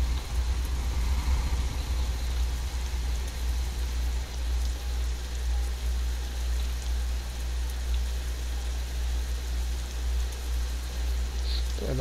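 Steady rain hisses inside Euro Truck Simulator 2 with a realistic rain, thunder and lightning weather mod, over a constant low truck engine idle rumble; the wash stays even and continuous throughout.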